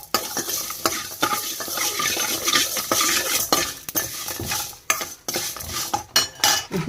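A spoon stirs and scrapes a coconut and poppy seed mixture in a hot pan, producing continuous close scraping and clinking over a light sizzle, with no voices.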